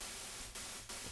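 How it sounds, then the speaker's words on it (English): Synthesized pure white noise hisses steadily and quietly across the whole range, with two brief dips in level. "Pure white noise."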